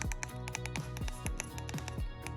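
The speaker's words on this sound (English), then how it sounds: "They feel sturdy and give nice feedback with a clicky sound" Sturdy clicky buttons on a Topdon BT100 battery tester pressed about ten times in an even rhythm, each a crisp, close, loud click with no talk.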